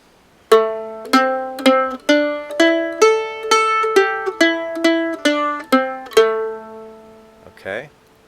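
A stringed instrument plays the last line of the A part of the bluegrass tune Jerusalem Ridge, a steady run of clear plucked notes ringing close and alone, ending with a brief scrape.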